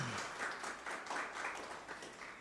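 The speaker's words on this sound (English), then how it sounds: "Round of applause." Applause from an audience at a Culturama 50 Golden Jubilee press conference in Nevis, a steady patter of many hands clapping at moderate distance for a couple of seconds with no speech over it.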